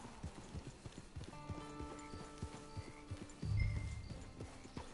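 Horse hooves clip-clop in the video game Red Dead Redemption 2, a steady rhythmic trot of close, moderately loud hoofbeats over tonal game music, with a heavier low thump near the end.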